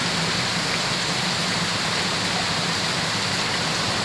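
Heavy rain pours steadily in a dense, loud, unbroken roar with no pauses or voices.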